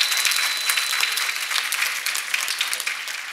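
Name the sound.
audience applause for the chairs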